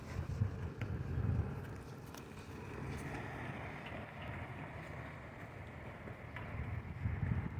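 Gusty wind blowing outdoors in wet, drizzly weather, a steady low rumble with a few louder buffets near the start and end, alone with no talking.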